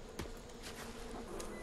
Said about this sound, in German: Bienenschwarm.